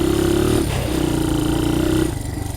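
A dirt bike engine warming up at idle gives a steady, close, buzzing drone that dips briefly and then returns to an even hum, with no talk over it.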